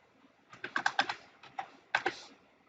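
Someone fills in form fields on a computer keyboard: quick, close keystrokes in two short bursts separated by a pause, with no talking.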